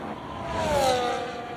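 Williams FW47 Formula 1 car engine in the F1 25 video game replay, a high-pitched racing engine whine that swells as the car passes and then fades, heard alone with a steady background roar.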